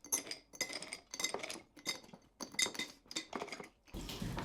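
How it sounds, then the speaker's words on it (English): Ice cubes clinking in a glass, a series of bright, irregular rattling bursts repeated several times close up, followed by a brief rushing sound at the end, with no talking. "We have a lot of ice cubes."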